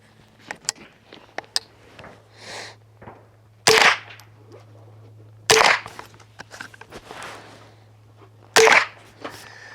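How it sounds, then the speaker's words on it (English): Suppressed .22 LR shots from a Smith & Wesson M&P 15-22 fitted with a Shadow Silencers Duo Duo: three sharp, muffled reports spaced a couple of seconds apart, close by, among small handling clicks and faint background noise. "Gonna go ahead and shoot 2 or 3 shots, retest the threads, and then we'll get back to shooting right after that."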